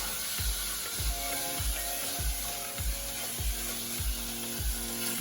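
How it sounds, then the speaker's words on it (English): Bacon frying in a pot over medium-high heat until crispy, a steady close sizzle broken by a regular series of soft knocks or stirring thumps every half second or so. "Get this bacon nice and crispy."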